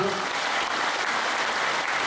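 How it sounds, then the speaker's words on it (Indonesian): Audience applause at a spiritual talk, steady dense clapping from a crowd filling the whole stretch at an even level. "tepuk tangan dulu"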